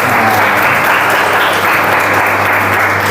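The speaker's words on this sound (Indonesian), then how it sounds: "Nah, tepuk tangan untuk Fatimah." Audience at a writing-themed talk show claps in loud, continuous applause that holds steady at full strength for the whole stretch, with a faint low hum beneath.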